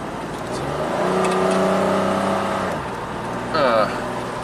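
A 1990 Buick Regal V6 with severely low power hums along at a steady cruise, engine tone holding then dropping, heard from inside the car with a brief higher whir near the end.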